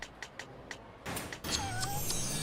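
A cat in the video game Yakuza 6 gives a few short, quiet meows, followed by a thump and a swell of game ambience with a faint tonal whine.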